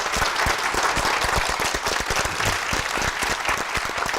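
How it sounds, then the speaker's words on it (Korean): A studio audience on a Korean talk show about shampoo applauds participants who went three months without shampoo, producing a dense, steady burst of clapping that holds at an even level throughout. "일단 3개월의 노고에 박수를 보내드립니다"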